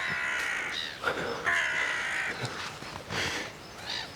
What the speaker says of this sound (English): Even the birds are chirping in some less delightful way than they were back there.